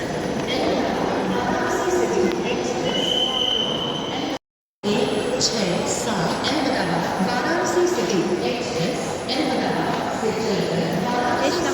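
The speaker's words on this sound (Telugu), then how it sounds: "అయోధ్య రైల్వే స్టేషన్ మేము వచ్చేసాము" Busy Ayodhya railway station ambience with a train's rumble and occasional squeal of wheels, mixed with steady crowd voices and people talking.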